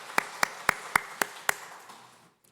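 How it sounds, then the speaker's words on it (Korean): Congregation in a Korean church clapping together: six evenly spaced sharp claps in a steady rhythm, fairly faint and slightly distant, then fading into quiet. "하나님께 영광의 박수 올려드립니다"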